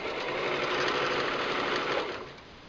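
A sewing machine runs steadily and close by while stitching a seam on a cosplay coat for Maka Albarn. The whir holds even for about two seconds, then eases off and softens toward the end.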